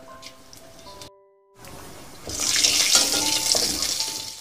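White cumin seeds sizzle in hot oil for a Sundarbans crab curry, with a sudden bright, hissing crackle bursting up after a short quiet gap and holding steady close by.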